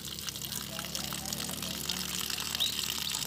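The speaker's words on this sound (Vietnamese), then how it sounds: "Ai xả nước vậy, xả nghe nó rồi." Water is released and pours out near a field pit, a steady rushing splash close by, with people talking over it.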